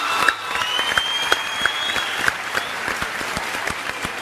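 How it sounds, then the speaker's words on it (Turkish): Audience applause at a Turkish comedy show as a young performer is welcomed, continuous clapping with scattered sharper claps and a few whistles over a faint low background hum. "Alkışlarınızla Çağatay Akman geliyor."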